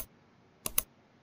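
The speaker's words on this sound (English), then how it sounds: "Now hit the 3 keys at the same time." Computer keyboard keys pressed at the same time, two sharp close clicks in quick succession after a brief quiet pause.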